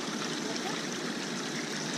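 Hot tub jets running outdoors at a glamping pod, a steady broadband rush and bubbling of churning water that stays constant and fairly soft throughout.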